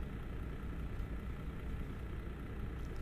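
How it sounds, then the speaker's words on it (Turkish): A MAN Lion's Coach bus engine idles in Euro Truck Simulator 2, a steady low rumbling hum that holds evenly throughout without speech. "Gır gır gır gır ediyor böyle. Tatlı bir rölanti sesi var."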